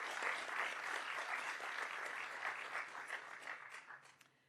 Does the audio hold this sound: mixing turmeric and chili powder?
no